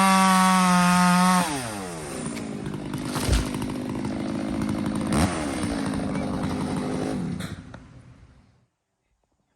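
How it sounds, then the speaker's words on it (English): A big bore Stihl 290 chainsaw idles steadily, then revs hard into firewood, its loud whining bite holding for several seconds before easing off and dying away to silence. "Makes a great firewood cutting saw."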